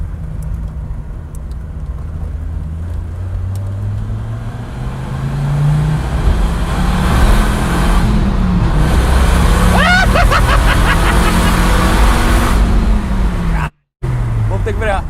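Dodge Viper RT10 engine revving inside the car, a loud continuous drone that rises in pitch midway and stays high, with people talking over it throughout and a brief cut near the end.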